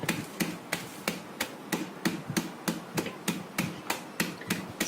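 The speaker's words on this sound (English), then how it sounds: "So just pound them like this with a rolling pin" A rolling pin pounds hazelnuts inside a closed bag for chocolate nut fudge, a steady run of about fifteen sharp, dull thuds at a quick even rhythm, fairly quiet and close, with no talking.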